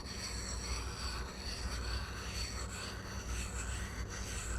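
Steel workpiece lapped in a figure-8 motion on a cast iron lap, giving a steady, continuous gritty rubbing hiss at moderate level. No voices break in.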